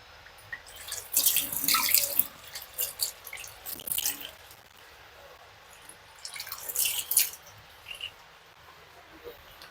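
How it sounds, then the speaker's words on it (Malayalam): Tap water from a borewell supply runs for hand-washing in a Palakkad kitchen where Ramassery idli is made, heard as two close bursts of splashing flow with quieter dripping between them. "വെള്ളം കൈ കഴുകാൻ"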